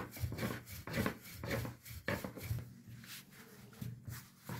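Pastry dough is rolled out on a floured counter, making repeated soft rubbing and scraping strokes in an uneven rhythm, close and fairly quiet, with no talking.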